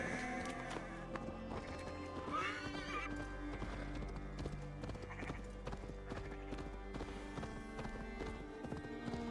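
Hooves clip-clop steadily while a horse neighs loudly partway through in Assassin's Creed Valhalla, with rustling game sounds layered underneath.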